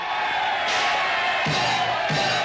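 A cartoon hockey arena crowd roars and cheers after a goalie's save, a dense, loud, continuous wall of voices that swells in waves with whoops rising above it.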